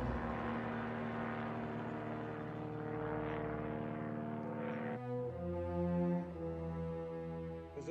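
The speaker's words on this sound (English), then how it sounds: "There's a small seaplane approaching your island." A small seaplane drones steadily with a buzzing propeller-engine tone as it approaches an island, holding a constant loud hum whose pitch shifts partway through.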